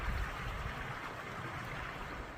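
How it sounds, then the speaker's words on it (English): Small waterfall on West Clear Creek, a steady broadband rush of falling water, continuous and fairly close, with no voices over it. "One last look at the creek and that little waterfall."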